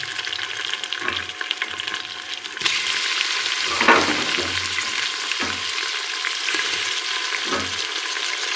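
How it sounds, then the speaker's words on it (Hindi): Beef and onions frying and browning together in a pot for beef pulao, a steady loud sizzle throughout with occasional stirring clatter, intensifying after a few seconds as more meat goes in; no talking. "अब इसके मैंने ज़रा गोश्त डालना है और दोनों को इकट्ठा ही ब्राउन करना है।"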